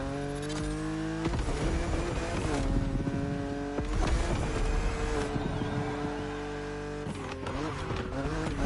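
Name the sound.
BMW Z roadster engine driving in video game The Crew Motorfest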